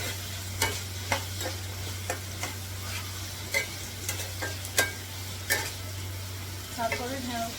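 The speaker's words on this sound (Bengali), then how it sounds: "প্রথমে আলুটা দিয়ে একটু নাড়বো।" Fried potatoes being stirred into spiced masala in a pan with shrimp, a series of clinking spoon scrapes over a soft sizzle and a low steady hum, close and quiet.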